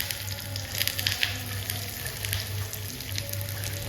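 Sliced shallots and curry leaves crackle and sizzle in a little hot oil while tempering for a mushroom masala, a continuous close spattering with small pops.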